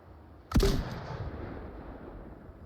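A single gunshot in the VR shooter Onward, one sharp loud crack followed by a fading rumbling echo, heard alone without talk.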